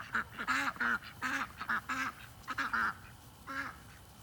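Several ducks quack in repeated bursts, loud and close, with short pauses between calls and no talking.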